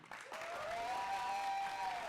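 Audience applause fills a hall at a school-style motivational event, a steady wash of clapping that swells in after a brief lull and holds loud and even throughout, with no voices rising above it.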